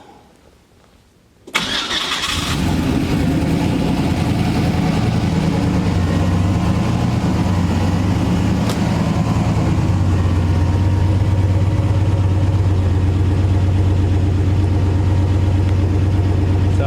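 A Nissan engine fitted with Snake Eater 210lb injectors cranks after a brief quiet start, catches and settles into a steady, loud, even idle that continues for the rest of the clip with no voices.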